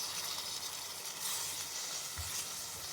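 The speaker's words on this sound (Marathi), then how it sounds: "हे पण छान परतून घेऊया" Tomatoes, carrots and peas sautéing in oil in a pan, a steady close sizzle and hiss that runs throughout with a soft stirring bump near the end.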